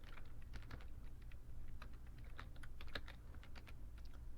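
Rapid, irregular typing on a computer keyboard, a steady patter of key clicks with a few louder strikes, heard alone over a low background hum.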